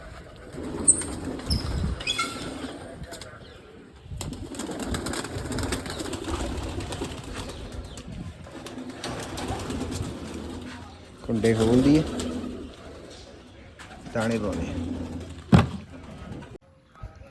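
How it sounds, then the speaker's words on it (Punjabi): Hungry pigeons on a rooftop coo softly and wings flap in short bursts nearby as grain is scattered, while a person talks over them and rustles around. "ਸਾਰੇ ਕਬੂਤਰ ਬਾਹਰ ਨਿਕਲੇ ਫਿਰਦੇ ਨੇ ਉਹਦੇ ਭੁੱਖੇ ਨੇ"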